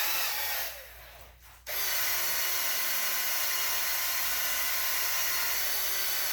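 A Milwaukee M12 sander/polisher works on a wheel, starting with a brief lull and then revving into a loud, steady, high-pitched whine that holds unbroken to the end.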